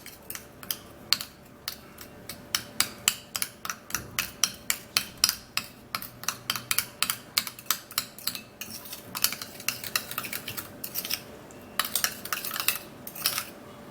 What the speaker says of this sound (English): So you're just going to mix it very well.